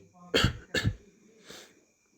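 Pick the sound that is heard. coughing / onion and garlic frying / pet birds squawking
coughing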